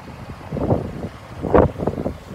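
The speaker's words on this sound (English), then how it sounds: "Sorry, it is a little windy." Gusty outdoor wind buffets the microphone in a car lot beside a 2012 Ford Escape, a steady low rumble that swells and dips in loud bursts, with no voices.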